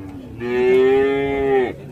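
A single loud, drawn-out moo comes from a young bull calf close by at the Maligram cattle market in Faridpur, rising, holding steady, then cutting off.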